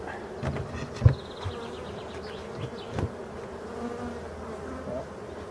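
Bees buzz steadily nearby at an opened hive, a soft droning hum with a couple of sharp knocks or taps, no talking.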